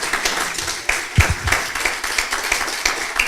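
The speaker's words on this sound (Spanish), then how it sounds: "Le podemos dar un aplauso al Rey por su amor" A church congregation applauding during a worship service, steady scattered clapping filling the room for a few seconds with no talking over it.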